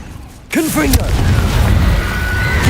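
A Confringo blasting spell explodes in the Hogwarts Legacy video game with a sudden loud boom that erupts after a brief lull, followed by a sustained rumbling, crackling roar with a whooshing tonal sweep.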